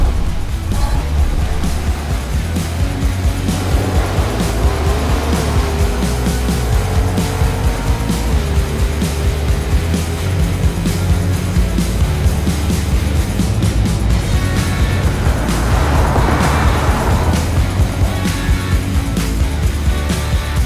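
Mercedes S580, S580e and EQS580 launching in a drag race: loud, steady engine and road roar close by, with a rising whine and tire squeal passing through and a brief surge near the end.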